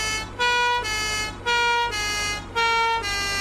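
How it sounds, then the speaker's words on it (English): A loud fire engine siren in a cartoon wails in repeating rising and falling cycles, steady and close, with no voices. "Sam told Elvis to activate the siren to test it."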